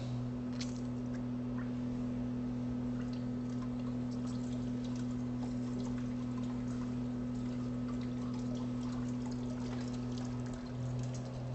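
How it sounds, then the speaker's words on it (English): Water floods the water column of a phased array ultrasonic pipe scanner, a continuous steady pouring and trickling over a constant low machine hum with no talk. "We'll flood the water column."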